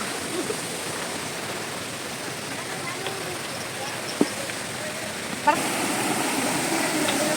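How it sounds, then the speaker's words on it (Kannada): Steady broadband rush of a waterfall beside a mountain trekking trail on Nethravathi peak, constant and fairly close, with a couple of brief knocks and faint voices. "ನೋಡಿ ಇಲ್ಲೊಂದು ಫಾಲ್ಸ್ ಕರ್ಕೊಂಬರ್ತಾ ಇದೆ, ಹಗ್ಗ ಕಟ್ಟಿದ್ದಾರೆ ಸಪೋರ್ಟ್ಗೆ ಅಂತ"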